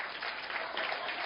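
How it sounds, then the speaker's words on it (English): A sermon audience clapping together, a soft, dense, even patter that holds steady for a moment with no talking over it. "Come on, clap so no one can look at you."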